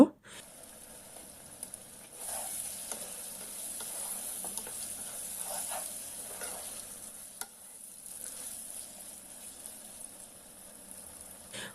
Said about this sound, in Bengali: মাংসগুলোকে ভালোভাবে নেড়ে চেড়ে কষিয়ে নিব